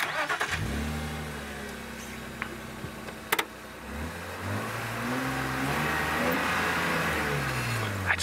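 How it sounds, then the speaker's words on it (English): Safari vehicle engine starting outdoors at sunset: a cranking catch, then a steady running rumble that rises as the motor revs, with brief clicks mixed in and no talking over it. "Okay, I'm just gonna start the car."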